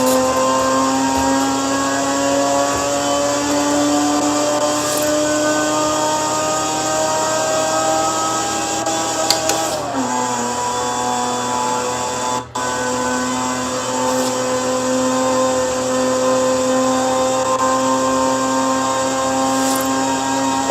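A car engine holds a steady, loud drone throughout, its pitch climbing slowly, then dropping briefly near the middle as if shifting or easing off before rising again, with no talk over it.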